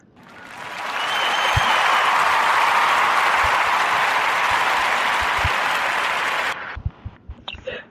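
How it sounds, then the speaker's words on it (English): A sustained round of applause from an audience for two guests on a podcast, building quickly and holding loud and dense before cutting off, followed by a few scattered claps. "give a warm narrative round of applause for the brothers over at Mocha Box, Floyd Sarton and Harlan Thomas"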